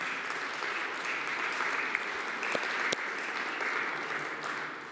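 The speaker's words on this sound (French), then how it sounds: "voilà, on vous applaudit." Conference audience at a French-language debate session gives a steady round of applause lasting several seconds. The dense clapping holds an even loudness with a couple of sharper individual claps standing out, and no speech over it.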